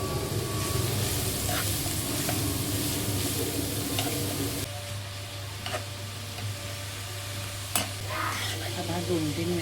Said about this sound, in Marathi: गाजर ॲड करते आणि 2-3 मिनटं परतायचं आहे घीमध्ये चांगला